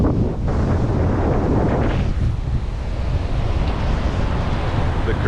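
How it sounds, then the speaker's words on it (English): Choppy Atlantic surf on a beach at Punta Cana, Dominican Republic, a steady broadband wash of waves with heavy wind buffeting the microphone throughout. "This is the Atlantic side of the beach. You can tell by the choppy water."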